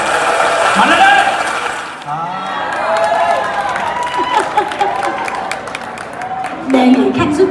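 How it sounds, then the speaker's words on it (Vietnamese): An audience claps at a live show with singers, a crowd of applause rising and falling while a voice talks over it through much of the stretch. "Bây giờ mình làm thử một tràng pháo tay thử coi nó lớn cỡ nào"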